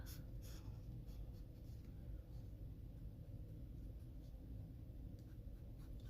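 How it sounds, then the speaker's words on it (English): Steady scratchy strokes of a coloured pencil on paper, close and quiet, over a low continuous rumble. "I will go over these with pencils just as I did the umbrella."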